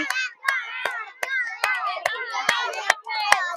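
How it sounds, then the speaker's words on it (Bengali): A small group of children and adults claps at a balloon-popping party game, sharp, uneven hand claps about every half second, heard over lively background chatter and children's voices. "সবাই সবাই তার জন্য একটা করতালি করতালি"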